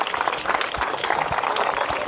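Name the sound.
applause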